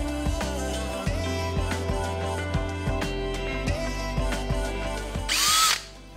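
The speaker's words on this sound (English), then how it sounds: "So gonna have to drill one." Background music plays with rhythmic beats, then a power drill whines loudly for under a second near the end before stopping, drilling into a Nissan S15 car boot lid.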